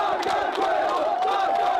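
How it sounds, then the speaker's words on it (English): Georgian fans cheering at an under-18 rugby match between Spain and Georgia, a loud, dense crowd roar with rising chanting voices, sustained throughout the brief moment. "We can hear the Georgians cheering the crowd on there."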